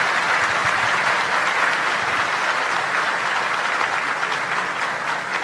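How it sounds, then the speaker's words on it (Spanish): Steady, dense applause from an audience at an evening book launch event, sending off the country's vice president; loud, continuous clapping with no voices over it. "vamos a despedirla con un fuerte aplauso"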